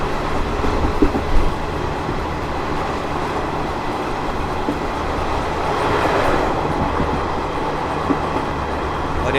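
The Ranchi Garibrath Express arrives at Anand Vihar Terminal station, heard from on board as a steady loud rumble of rolling wheels with occasional clacks and a slight swell midway.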